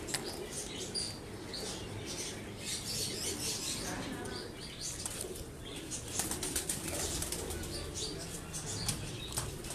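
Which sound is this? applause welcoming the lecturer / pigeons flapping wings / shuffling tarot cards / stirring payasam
pigeons flapping wings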